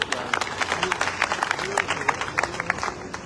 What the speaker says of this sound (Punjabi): ਇਹ ਸਾਰੀਆਂ ਗੱਲਾਂ ਸਭ ਦੇ ਲਈ ਜੋਬਰ ਤਾੜੀਆਂ ਕੀਤੀਆਂ ਜਾਣ